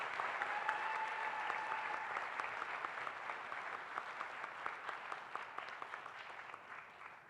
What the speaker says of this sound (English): Give him a real round of applause.